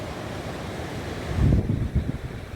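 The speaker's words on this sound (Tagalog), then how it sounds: "Pero yung hangin, stable siya" Steady wind rushes and buffets the microphone, with a brief stronger gust partway through and no voices.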